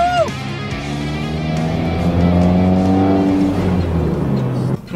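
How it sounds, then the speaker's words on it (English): A manual car pulls away in first gear, its engine note climbing steadily in pitch as it accelerates from a standstill, close and moderately loud with a little background noise. "Release the clutch. Slowly. And put some gas on it."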